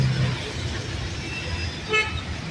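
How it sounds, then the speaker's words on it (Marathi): Car horns honking amid a traffic jam on a flooded service road during heavy rain, a couple of short toots over a steady wash of road and engine noise. "आणि या पाण्यामुळे पुढे जाऊन ट्रॅफिक जाम परत सुरू झाला आहे"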